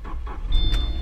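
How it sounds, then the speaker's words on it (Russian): A Subaru car is driven out, a low engine rumble close by that swells slightly midway, with a brief high whine and a short hissing burst over it, and no talking. "С первым делом выгоняем вот эту субарика"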